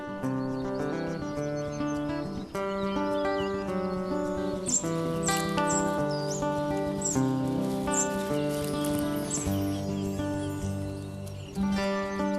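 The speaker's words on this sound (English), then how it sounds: "A domestic cat hears the ravenous cries of the young spotted flycatchers." Young spotted flycatchers giving ravenous begging cries, rapid high chirps and tweets repeating over a continuous busy layer of patter and sustained tonal sound.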